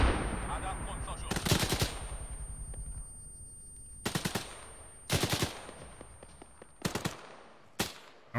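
Gunfire in the military shooter game Arma 3: several sharp bursts of automatic fire with cracking, echoing reports, separated by quieter stretches of distant rumble and faint background noise.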